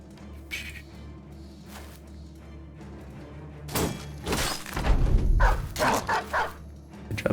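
A dog in the medieval mercenary game Battle Brothers gives a few sharp barks and yips amid the clatter of a fight, with crashing impacts and loud bursts toward the end, and no talk.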